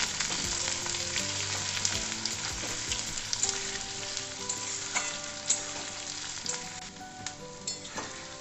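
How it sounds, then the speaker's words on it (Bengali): Chopped onion fries in hot oil over tempering spices for Bengali mutton kosha, a steady close sizzle with scraping stirs and occasional sharp pops, no voices over it. "পেঁয়াজটা আমি ভালোভাবে ভেজে নেব।"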